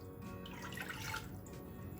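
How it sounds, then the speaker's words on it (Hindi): Water poured from a measuring cup into a steel pressure cooker in a home kitchen, a steady close splashing and trickling stream lasting throughout with no speech. "अब इसमें हम डालेंगे पानी।"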